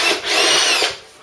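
Short, loud whine of a power drill boring out rivets on a bracket of a Mk3 Ford Cortina under restoration, rising and falling once in about a second.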